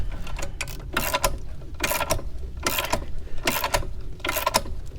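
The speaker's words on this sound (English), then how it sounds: "we are just going to torque this sucker down and hope that it pops it loose" A ratcheting wrench clicks in quick repeated bursts, about four cranks in a row, tightening a front suspension bolt on a Mercedes S600, close up and mechanical, with no talking.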